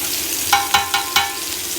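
Meatballs for Spanish tapas fry in a pan with a steady, close sizzle, broken by four light, evenly spaced clinks as they are moved around.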